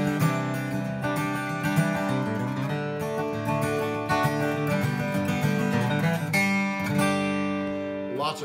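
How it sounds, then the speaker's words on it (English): A 2001 Martin D18CW Clarence White acoustic guitar is played up close in a lively, bright flatpicked passage of ringing strummed chords and single-note runs, solo with no voices. "I have this beautiful 2001 Martin D18CW Clarence White."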